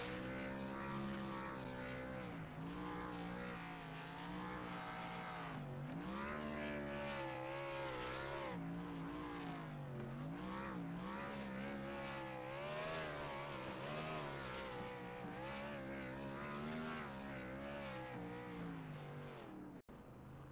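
A Gen 6 stock car does a burnout at Pocono, its engine revving hard and continuously, loud and close, with the pitch rising and falling over about twenty seconds and no voices.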